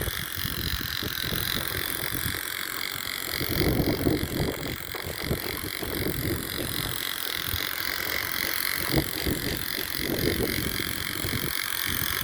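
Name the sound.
wind blowing outdoors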